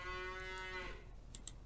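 A single cow moos from a Farming Simulator 19 herd, a drawn-out lowing call close by that fades after about a second into quiet ambience.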